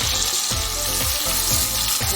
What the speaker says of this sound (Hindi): थोड़ा टमाटर का पेस्ट डाल के भूनती जाऊँगी